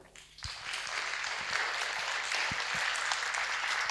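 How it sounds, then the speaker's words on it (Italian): A theatre audience breaks into sustained applause to welcome Gabriele Lavia at Teatro Maria Caniglia, the clapping rising quickly and holding steady and dense throughout. "accoglierei con un grandissimo applauso il maestro Gabriele Lavia"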